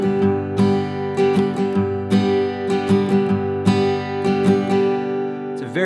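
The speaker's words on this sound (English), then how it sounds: "apply a very common bluegrass or country style strumming pattern" Acoustic guitar playing a bluegrass or country strumming pattern, alternating bass notes with strummed chords in a steady, bouncy rhythm. The guitar is close and played alone, with no voices.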